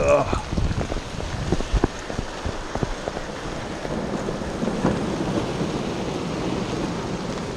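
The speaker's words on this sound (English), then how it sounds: "And thunder." A low rumble of thunder rolls under steady rain, with scattered sharp taps at first before it settles into a continuous wash.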